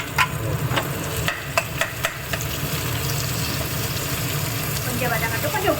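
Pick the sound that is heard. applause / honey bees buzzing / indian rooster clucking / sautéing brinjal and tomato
sautéing brinjal and tomato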